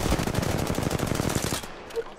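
Rapid automatic gunfire in the battle royale video game Apex Legends during a market fight, a dense burst of close shots for about a second and a half before it cuts off.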